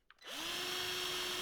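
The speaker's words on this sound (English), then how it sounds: "So again, just use the nail as the drill bit." A power drill spins a nail used as a drill bit, boring through pine: the motor whines up after a short tap and then holds a steady, loud, close drone without a break and with no talk.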